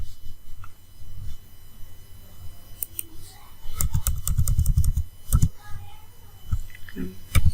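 Fingers tap on a computer keyboard during an HTML lesson, light clicking keystrokes in scattered bursts with a quicker run in the middle, close to the microphone, with a voice speaking quietly at times.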